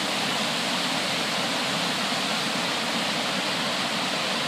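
Steady roar of a waterfall in Hamilton, Ontario, a dense broadband rush of falling water that holds constant and loud throughout with no other sounds.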